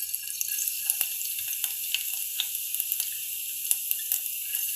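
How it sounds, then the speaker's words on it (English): Chopped garlic sizzling in hot oil in a wok, a soft continuous hiss with small sharp pops and crackles scattered across it, close but fairly quiet, no talking. "now in the same wok, I have added some oil, and now we are gonna add our chopped garlic"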